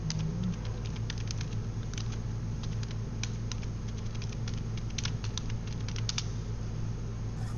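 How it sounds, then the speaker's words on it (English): Someone types on a computer keyboard, a run of light, quick, irregular key taps over a steady low electrical hum, with no talking. "I'm just typing here."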